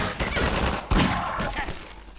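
Rapid bursts of gunfire in the video game Half-Life 2, several sharp shots close together with one loud crack near the middle, over a constant game background of rumble and noise.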